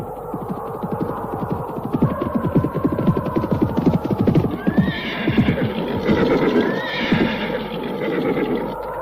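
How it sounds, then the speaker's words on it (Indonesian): Two horses neigh loudly while hooves clop in a steady rhythm close by, with a low throbbing hum beneath, in an open field setting. "ada kuda 2 ekor"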